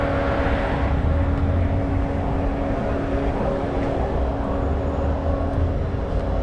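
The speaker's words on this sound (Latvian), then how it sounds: "Viņš uzsila turbīnu." Idling car engine with a turbo being warmed up on a street, a steady low rumble with faint hum, held close and unbroken throughout with no speech.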